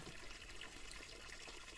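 Natural spring water flows downhill in a steady, continuous rush while crabs are being washed outdoors, with a close, even wash of splashing and trickling and no voices.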